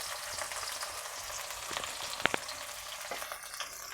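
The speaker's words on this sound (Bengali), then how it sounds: "দিয়ে দিচ্ছি পেঁয়াজ, এই বাটির হাফ বাটি পেঁয়াজটা সাথে দিয়ে দেব।" Onions fry in plenty of oil in a pan with a constant faint hiss, and a couple of sharp scrapes and taps come from stirring.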